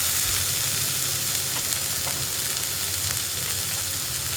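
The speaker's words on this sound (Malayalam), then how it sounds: "ഇനി ഇതിലേക്ക് നമ്മൾ കട്ട് ചെയ്ത് വെച്ചിരിക്കുന്ന തക്കാളിയും കൂടി ചേർത്ത് കൊടുക്കാം" Chopped tomatoes sizzle in a hot pan of potato masala, a loud, steady hiss and crackle running throughout with only a faint stir partway, no voices.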